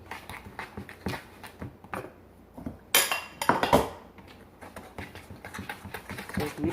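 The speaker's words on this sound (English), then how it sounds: "so I'm going to mix this up" Oatmeal raisin walnut cookie dough is worked by hand in a bowl, close irregular clinks and scrapes of a utensil against the bowl, with a sharper burst of clatter midway and short pauses between strokes.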